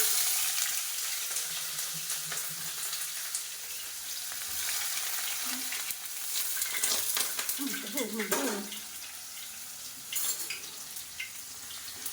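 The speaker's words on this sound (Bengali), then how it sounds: "আজকে একটুখানি গোটা জিরে দিলাম দুই চার দানা" Whole cumin seeds sizzle in hot oil in a pan with a steady crackling hiss that swells briefly midway, with a few stirring scrapes and no talking.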